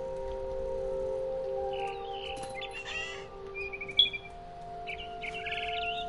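Birds chirp in What Remains of Edith Finch, with short, bright tweets scattered over a steady low hum and a faint tonal drone. The calls come in small clusters and sound fairly quiet and a little distant.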